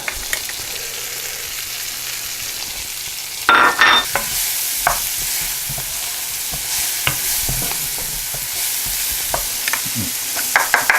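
Onions frying in about one and a half tablespoons of butter in a pan, a steady close sizzle with clattering stirs and a louder burst as they drop in, no talking.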